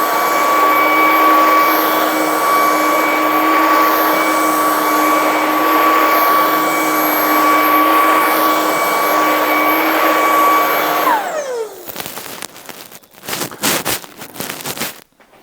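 A Ryobi 18V ONE+ HP brushless stick vacuum runs at full power with its brush roll on, a loud, steady motor whine for about eleven seconds before winding down into scattered clatter and handling noises.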